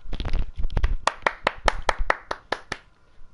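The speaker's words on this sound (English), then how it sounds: "Everybody clap, Gemma." A few people clap along during a live PS4 game broadcast, a quick irregular flurry of sharp hand claps that settles into a slower run of single claps and fades out. Close and alone, with no talk.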